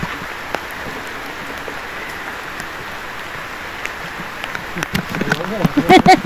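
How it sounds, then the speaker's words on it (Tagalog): Steady rain falls at a foggy, cool campsite in Cavite, a continuous soft hiss of drops on surfaces; toward the end, nearby louder splashes and movement break through the wash. "First time ko ulit maligo sa ulan eh"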